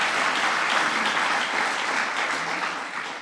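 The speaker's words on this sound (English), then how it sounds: "Nothing wrong with clapping about that, yeah." An audience claps together at a precision medicine initiative launch event, a dense, even wash of applause that holds steady and fades slightly at the end.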